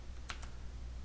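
Two quick key presses on a computer keyboard, sharp close clicks a beat apart over a faint low hum in an otherwise quiet room.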